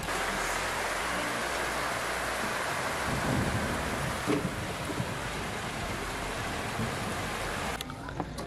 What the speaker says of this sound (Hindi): ये देख सकते हो बारिश आने लगी है।